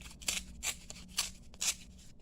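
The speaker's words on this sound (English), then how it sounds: "I'm going to trim this edge off" Scissors trimming the edge of a paper napkin, four crisp snipping cuts in a steady rhythm, close and fairly quiet with no talking.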